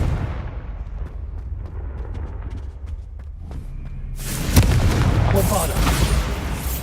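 The Confringo fire spell is cast in Hogwarts Legacy, a low rumbling buildup breaking into a loud, bright blast with a crackling burst that trails off into a roaring tail.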